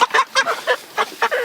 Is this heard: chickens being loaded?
yes